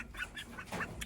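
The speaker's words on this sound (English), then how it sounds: "blue Swedish Ducks." Young blue Swedish ducks, about five weeks old, make soft, faint quacking calls in a brief burst of a few close, low-level honks.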